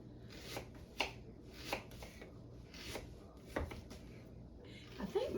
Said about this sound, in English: I've cut up a whole Vidalia onion.